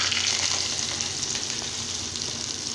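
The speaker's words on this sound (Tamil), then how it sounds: "இப்போ தாளிப்பை நம்ம கூட்டில் சேர்த்துக்கலாங்க" Hot mustard seed, urad dal, chilli and curry leaf tempering sizzles steadily as it is poured into ridge gourd and chana dal kootu, a dense continuous frying hiss with faint crackles and no voices.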